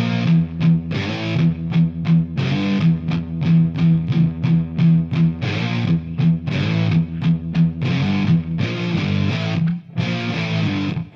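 Distorted electric guitar played slowly, a grinding groan of sliding notes resolving into heavy chords, loud and alone.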